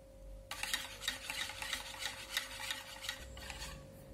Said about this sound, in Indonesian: Aduk rata.